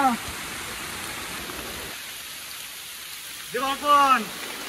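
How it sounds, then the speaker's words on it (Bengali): Rain falls steadily near a hidden waterfall by Massanjore Dam in Jharkhand, a broad, even hiss throughout, with people's voices breaking in near the start and again toward the end. "বৃষ্টি পড়ছে আর আসছে।"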